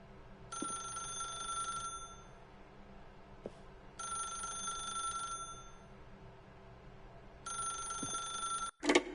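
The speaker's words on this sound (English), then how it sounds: "then pick up the phone." A telephone rings in the video game The Stanley Parable. Three distinct electronic ring bursts come at a steady interval, fairly clear over a quiet background.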